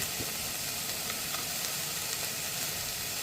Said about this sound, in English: And I'm also going to go in now with our garlic.